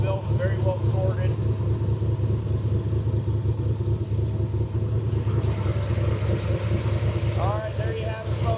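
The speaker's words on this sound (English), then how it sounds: "427 Ford Windsor V8. Engine sounds awesome." A Factory Five MK4 Cobra replica with a fuel-injected 427 Ford Windsor V8 running steadily under the hood, a deep, loud, even rumble throughout with a few brief higher squeaks over it.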